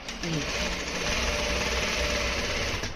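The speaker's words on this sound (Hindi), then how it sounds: "अब हम इस वाली सिलाई को पहले हम सीधे पे ही रखेंगे और हम एक बड़ी चाल से हम इसमें सिलाई करेंगे।" Sewing machine running steadily in one continuous, close burst while stitching the pocket of a pair of ladies' pants, with faint talk underneath.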